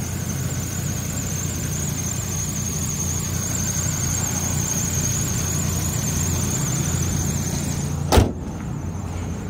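A 2001 Saab 9-5 Aero four-cylinder engine runs steadily with the hood open, a constant hum with a thin high whine on top and one brief knock near the end.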